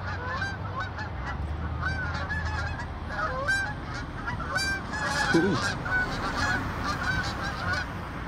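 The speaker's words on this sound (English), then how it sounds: "And we got the geese." A flock of geese honks repeatedly and loudly over steady outdoor background noise, with a brief spoken word partway through.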